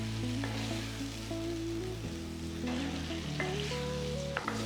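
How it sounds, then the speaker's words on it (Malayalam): Tomatoes cook down in a pan for shakshuka, giving a continuous close sizzle with bubbling and occasional stirring, and no speech over it. "ഈ ടൊമാറ്റോസ് നന്നായിട്ട് സോഫ്റ്റ് ആവണം, അതുവരെ കുക്ക് ചെയ്യുക."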